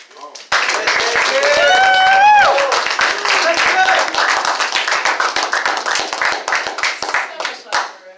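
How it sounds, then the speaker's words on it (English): A room of fellow students at a classroom informative speech breaks into loud close clapping that starts abruptly, with cheering voices early on, then thins into scattered claps near the end. "give you a round of applause first?"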